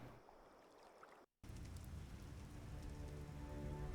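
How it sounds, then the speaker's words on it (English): Steady rain in the video game The Witcher, a dense, even hiss of rain on surfaces that cuts out for a brief moment and then returns slightly louder and continues without any talk. "Is that supposed to be rain? Yes, it is apparently supposed to be rain."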